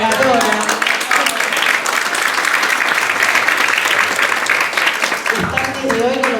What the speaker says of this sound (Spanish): Otro aplauso para la relatora.